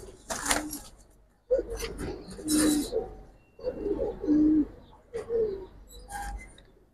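Pigeons at a busy pigeon market coo in repeated throaty bursts, several close calls overlapping in uneven waves with short pauses between them.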